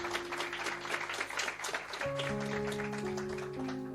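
A church congregation claps hands in praise, a busy patter for about two seconds before sustained keyboard chords take over and the clapping fades beneath them.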